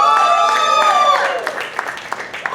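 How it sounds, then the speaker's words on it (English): Applause from a comedy club audience at the Miami Improv rings out beneath a host's loud amplified voice, the clapping fading to scattered claps after a moment. "Clap it up for Joshua."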